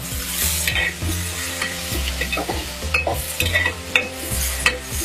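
Mango pieces for a Kerala mango mappas curry are stirred as they fry in a pan: a steady close sizzle under rhythmic spoon scrapes and knocks against the metal, with no one speaking.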